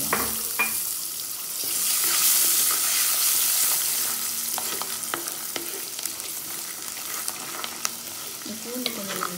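Garlic fries in hot oil for eggplant kuzhambu, a continuous close sizzle with occasional stirring scrapes and light clinks.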